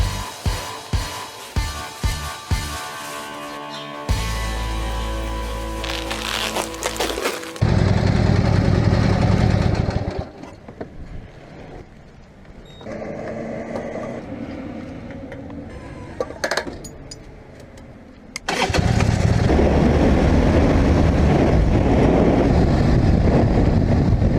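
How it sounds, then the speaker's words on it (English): A 1985 Harley-Davidson Ironhead Sportster engine sputters, starts and revs, settling into a rough idle with bursts of louder throttle and a few mechanical clatters. "the bike is running good"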